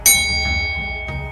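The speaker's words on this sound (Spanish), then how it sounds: "la campanilla sonó mucho más cercana" A small bell rings close by with a bright sharp strike, its tone sustaining and decaying, then struck faintly twice more.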